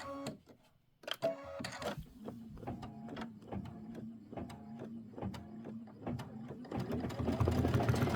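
An embroidery machine stitching a ghost fill in specialty thread, with the Kimberbell Pumpkins and Potions ghost design, taps steadily in a fast even rhythm over a low mechanical hum, quiet and close, growing busier near the end.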